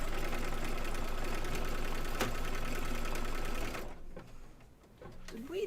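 An embroidery machine stitches down fabric for an in-the-hoop haunted house quilt block, giving a steady loud mechanical whir and rapid needle chatter that runs continuously, then drops away near the end to a quieter hum.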